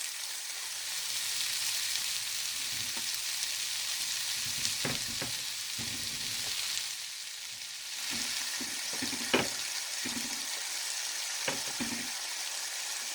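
Onions, red peppers, tomato and broccoli with chilli sizzle steadily in a frying pan, a continuous close hiss broken by scattered pops and the odd utensil knock, with no talking.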